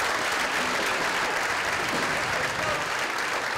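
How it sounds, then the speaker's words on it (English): Sustained applause from the crowd at a school spring concert fills the room, a thick, uniform patter of many hands clapping at once, with faint cheering mixed in. "Give one more round of applause."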